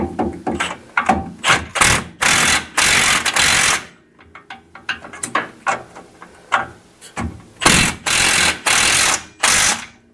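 A wrench ratchets on a bolt in the front suspension of a 1967 Chevelle with an LS swap, during a lowering-spring install: quick, loud bursts of clicking repeat in a steady stop-start rhythm, close up.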